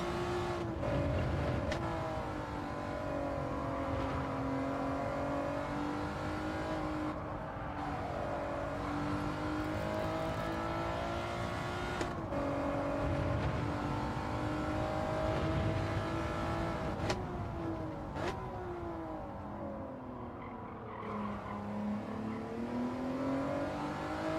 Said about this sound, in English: Just trying to let the car roll through the corner, and it just wants to go everywhere.